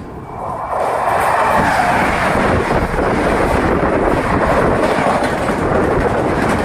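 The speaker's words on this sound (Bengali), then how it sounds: "চলে এসছে অলরেডি আমাদের ট্রেন এখানে।" Aboard a passenger train pulling into Asansol Junction, a loud, continuous rumble and wheel clatter rises within the first second and then holds steady, with wind buffeting the microphone throughout.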